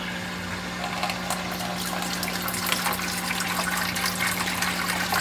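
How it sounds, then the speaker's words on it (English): Worm tea is poured from a jar into a handheld sprayer, a steady close gush of liquid running continuously over a low hum, with no talking. "So I just pour this in here."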